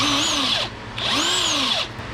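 A DeWalt impact wrench works a bike's sprocket nut in two loud, close bursts, its motor whine rising and falling in pitch with each run.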